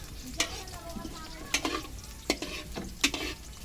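Onion and garlic sautéing in a pan while being stirred for native chicken adobo in coconut milk, a close sizzle punctuated by four sharp scraping strokes of a spatula at a loose, uneven pace.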